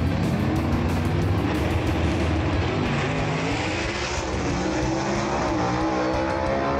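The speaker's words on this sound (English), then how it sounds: "Drag race right there, folks." Drag race cars, including a 1931 Ford, roar down the strip together in a loud, sustained engine blast that stays close and fills the whole clip with no talk over it.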